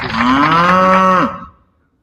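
A single long, loud cow moo, presented as puppet cows, swells in and holds steady before cutting off and fading into quiet, with no talking.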